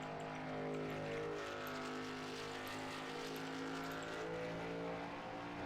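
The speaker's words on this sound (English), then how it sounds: "Derek Stamp doing burnouts" Race trucks in a racing video game roar continuously at high revs while doing burnouts, a dense, loud, sustained engine drone with steady whining harmonics.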